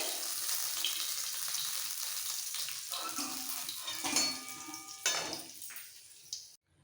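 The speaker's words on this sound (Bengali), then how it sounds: "বাকি মাছগুলো ভেজে নেবো একটু কড়া করে" Small chara pona fish fry crisp in hot oil in a pan: a close sizzle with occasional utensil clinks that fades and cuts to silence at the end.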